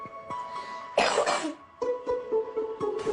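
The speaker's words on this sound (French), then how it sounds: "Tu as beaucoup toussé." A person sick with coronavirus coughs in a harsh, close burst, followed by a few smaller throaty coughs over a low background hum.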